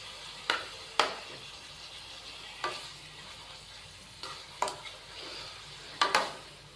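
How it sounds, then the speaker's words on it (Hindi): Chicken stirred into a degh-style shahi korma pot: a spoon scrapes and knocks against the metal about seven times at an uneven pace, each stroke sharp and close over a low background sizzle. "चिकन को शामिल करके हम इसको अच्छे से मिक्स करेंगे"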